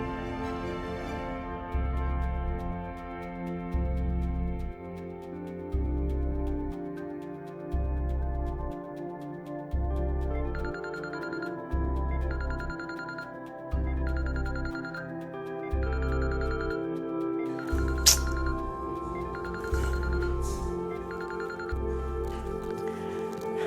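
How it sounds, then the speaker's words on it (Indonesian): A telephone rings with an incoming call, its ringtone repeating in a steady, evenly spaced pattern, loud and close over background music, with no talking. "Maaf nih Anjani, aku telepon kamu"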